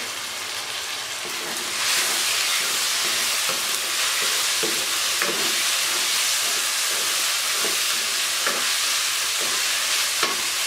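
Minced keema sizzles and fries in a pan with tomato and onion for aloo keema, a steady hissing bed with occasional stirring clicks, loud and continuous with no talking.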